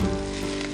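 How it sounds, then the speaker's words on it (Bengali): Garlic sizzles steadily in a pan over medium heat as it fries toward golden brown, a brief, close, even hiss with no talking. "রসুনটা গোল্ডেন ব্রাউন হওয়া পর্যন্ত আমাদের অপেক্ষা করতে হবে।"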